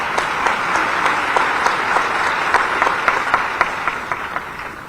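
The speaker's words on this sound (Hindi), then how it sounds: "ताली और ठीक ठाक हो जाए" Audience applause at a ceremony honouring GST taxpayers in Bhopal, a sustained crowd clapping at steady, fairly loud level with individual sharp claps standing out throughout.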